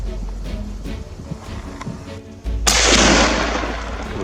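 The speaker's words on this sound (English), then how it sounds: "I also took the opportunity to fire a few shots in succession" Gunfire during a wild boar hunt on farmland, quiet rumbling outdoor ambience followed by a sudden loud blast whose sound decays over the final second and a half.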